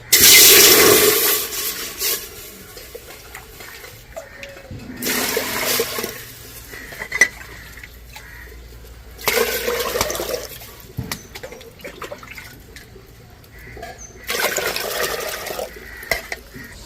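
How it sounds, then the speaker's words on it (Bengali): Water is poured into a cooking pot for steamed rice-flour bhapa pitha, several splashing, gushing bursts of a second or two each, separated by quieter gaps with faint clinks, close and fairly loud. "হাঁড়িতে এবার জল দিয়ে দিচ্ছি"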